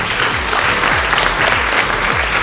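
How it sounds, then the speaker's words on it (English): Applause from a crowd at a book launch in Singapore fills the room with a steady wash of clapping that continues without a break. "please give a big round of applause"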